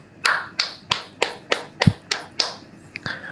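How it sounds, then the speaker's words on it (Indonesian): An audience claps in unison during a church sermon: about nine sharp, evenly spaced claps in a quick, steady rhythm, with quiet gaps between them and no speech. "Tepuk tangan dulu."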